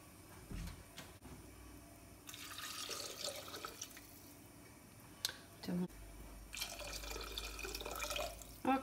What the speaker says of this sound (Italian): Ok, aggiungiamo l'acqua.